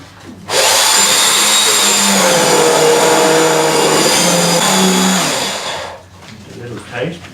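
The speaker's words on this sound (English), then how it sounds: "if you've got a blender, liquidizer, you can put it in that if you want," An electric blender liquidizes a fresh herb sauce for a lamb crown, giving a loud, steady high whir that starts abruptly, runs about five seconds, then cuts off, leaving quiet kitchen noise.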